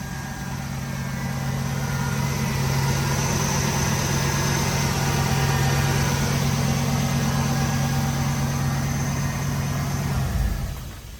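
A 1985 Monte Carlo with a turbocharged LS swap idles steadily up close, a loud, even low drone with a lumpy hum that cuts off near the end; no talking.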